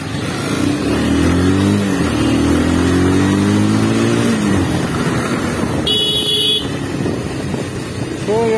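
A motorcycle rides through busy road traffic near Futung and Aadeshor, its engine droning loud and steady with pitch rising under acceleration, while another vehicle's horn honks briefly about two-thirds of the way through.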